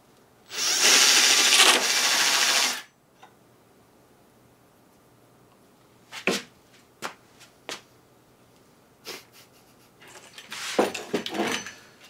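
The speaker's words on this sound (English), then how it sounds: "we're gonna start with just some pegboard. It's nice and thin, it's flexible. Shouldn't be that hard to cut." A cheap drill attachment cuts through thin, flexible pegboard with a loud, harsh grinding burst of about two seconds, followed by scattered knocks and rattles and then a second rough burst near the end.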